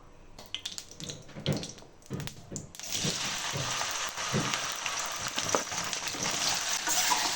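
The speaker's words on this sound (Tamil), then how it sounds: "எண்ணெய் கொஞ்சம் நல்லா சூடானதுக்கு அப்புறம் நம்ம இந்த வெண்டைக்காவை ஆட் பண்ணலாம்." Okra (ladies finger) drops into hot oil for a kara kulambu, and after a few soft handling knocks a strong, even sizzle bursts in and continues close and loud to the end.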